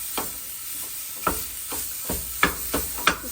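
Ground meat browning and sizzling in a hot pan as a wooden spatula breaks it up, giving a steady hiss with repeated scraping stir strokes spaced about every half second.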